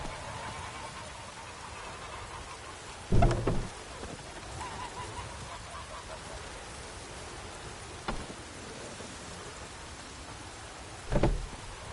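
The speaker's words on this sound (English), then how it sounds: "Let it rain." Steady rainfall in The Witcher 3: Wild Hunt hisses softly throughout, with a few louder thumps and bursts standing out over the patter.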